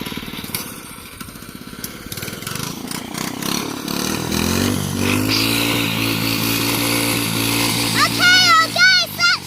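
A small go-kart engine sputters up and settles into a steady buzzing run, revving unevenly toward the end, with people talking over it nearby.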